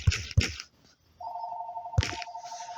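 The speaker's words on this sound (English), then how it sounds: "that's the phone ring" A telephone bell rings in a steady trilling burst, preceded by a few loud thumps nearby; the ring is clear and moderately loud with no talking over it.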